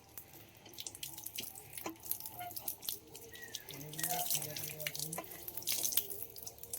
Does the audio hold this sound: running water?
yes